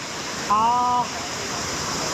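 Rushing water of a waterfall that drops in steps, a steady broad roar filling the scene, with a short tonal sound briefly rising over it near the middle.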